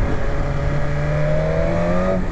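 Revving engine of a BMW S1000RR hypersport motorcycle from the 2020 model year: a loud, steady high-pitched drone whose tone rises gradually over a couple of seconds, with no talking.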